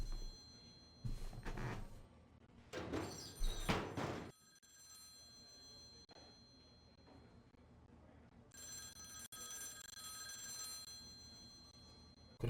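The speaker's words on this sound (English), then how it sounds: "That's your phone." A telephone rings in The X-Files video game as a few electronic bursts with steady tones, separated by pauses, heard against quiet room ambience with some thumps from footsteps or movement.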